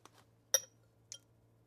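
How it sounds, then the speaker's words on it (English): A Lakole drinking glass handled on a table, giving two or three sharp, faint clinks spaced apart in a quiet room. "Last from Lakole is this glass"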